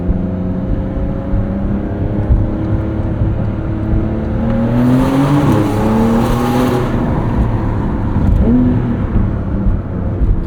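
A 2023 Porsche 911 Dakar flat-six revs hard beneath a bridge, its loud rising and falling engine note echoing off the concrete, with a sharp surge around the middle before settling back to a steady drone.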